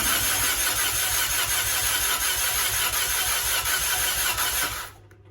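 A Peugeot 406 engine runs loud and steady, with a slight rev, for nearly five seconds before cutting off abruptly into near silence.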